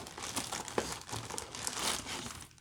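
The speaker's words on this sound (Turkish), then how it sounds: "Şu kutuyu açalım ve birlikte makineyi tanıyalım." Cardboard box and packaging for an Okuma Alaris 65 fishing reel being opened, close crinkling and rustling of paper and plastic with a few sharper crackles, continuous for a few seconds with no voices.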